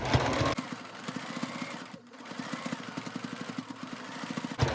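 A sewing machine stitches the fur backing onto a baby milestone blanket, a steady rapid needle thump running close and even, with a brief pause midway and no voices.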